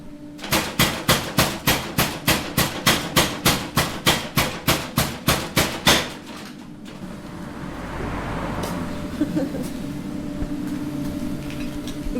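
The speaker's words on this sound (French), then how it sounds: "Maintenant, je vais le marteau pilon." A blacksmith's power hammer pounds hot metal in a fast, even run of about twenty heavy blows over six seconds, then stops, leaving a steady workshop rumble.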